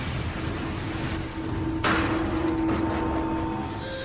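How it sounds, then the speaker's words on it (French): Storm-driven ocean waves roll in a steady, roaring wash of broadband noise, with a sharper surge of surf breaking partway through, loud and continuous with no voices. "Des tempêtes déchaînées s'abattent sur les océans."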